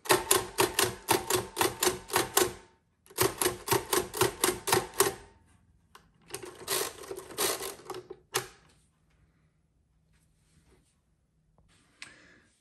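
Keys on an Everest Z5R mechanical calculator clack in rapid bursts while numbers are added, sharp rhythmic strokes in three runs with brief pauses, then a lone clunk and near silence with one faint late tap.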